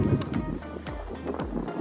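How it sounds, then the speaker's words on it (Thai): Strong, cold wind blows outdoors at an Easter egg hunt, buffeting the microphone in low, gusty rumbling pulses that keep up throughout. "โอ้ยอากาศ ลมแรงมากเลยนะคะหนาวนะคะ"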